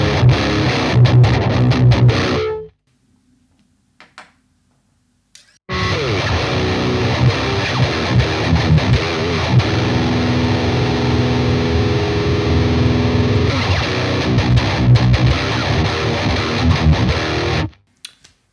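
Heavily distorted electric guitar through a Peavey Vypyr 75 amp, mid-heavy with a lot of low end, played in loud chugging riffs, dropping to near silence for a few seconds before resuming and stopping sharply near the end.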